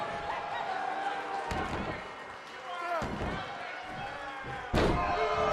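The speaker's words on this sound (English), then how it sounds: "Slams him down." Heavy body slams onto a wrestling mat during a televised WCW match featuring Big Van Vader and Pillman, several loud thuds rising over constant arena crowd noise and commentary.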